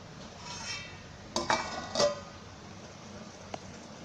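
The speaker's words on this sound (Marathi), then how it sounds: "आता झाकण मारते" A lid goes onto a cooking pot of drumstick bhaaji with two sharp metallic clanks close together, then a faint later clink, over a quiet kitchen background.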